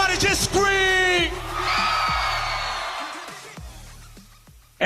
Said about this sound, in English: Everybody just scream!